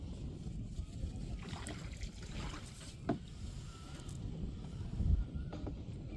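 A small rowing boat glides across a lake in Andhra Pradesh with soft trickling and gentle splashes of oars, light wind noise, and a few faint thuds.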